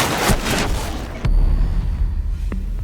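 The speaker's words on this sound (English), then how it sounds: "A well-timed Vulcan explosion can be the difference between lighting up the scoreboard or going down" In the video game Rainbow Six Siege, a Vulcan shield goes off with a loud booming blast, followed by sharp gunfire-like bursts and a rumbling tail, heard close and without talking.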